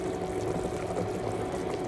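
Pork curry broth boiling in a pot, a steady bubbling wash with a faint watery gurgle, close and continuous for the whole stretch with no voices.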